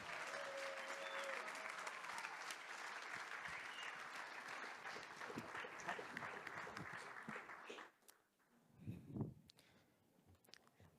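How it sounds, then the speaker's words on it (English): Audience applause for a 13-year-old startup pitcher at a summit showcase, a dense crowd clapping steadily for about eight seconds, then cutting off into quieter room noise and a brief voice. "give a round of applause for Francisco"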